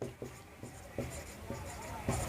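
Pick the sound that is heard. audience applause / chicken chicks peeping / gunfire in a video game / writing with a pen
writing with a pen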